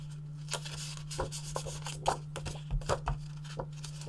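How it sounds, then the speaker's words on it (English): A scoring tool drags along paper in short, close scraping strokes with light taps, heard over a steady low electrical hum. "we literally just want to score 1/2 inch on either side, just for that piece"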